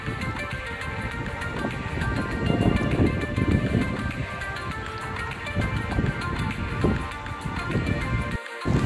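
Strong wind blows at the seashore at Kashid Beach, a steady loud rushing roar with gusts and buffeting against the microphone throughout, with no talk.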